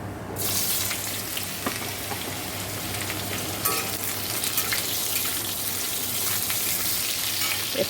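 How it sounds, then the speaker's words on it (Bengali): Mustard seeds and dried red chilies sizzle and crackle steadily in hot oil in a wok, a close, continuous frying hiss with scattered pops and no talking. "এই দেখো সর্ষে শুকনো লঙ্কা ফোড়ন দেবো"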